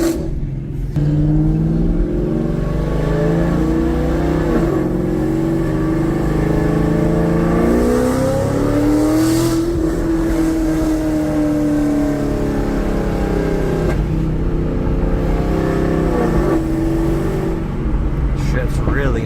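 A 2013 Chevrolet Camaro ZL1 fitted with Corsa exhaust and headers runs steadily while shifting and accelerating lightly, its engine rising and falling in pitch through the gears from inside the car, with someone talking over it.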